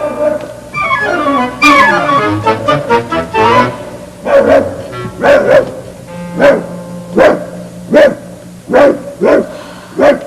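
A dog barks repeatedly in a cartoon nursery scene, sharp yaps spaced in a steady rhythm after a burst of orchestral music, close and fairly loud.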